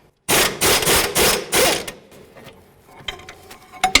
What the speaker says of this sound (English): Use your 21 millimeter socket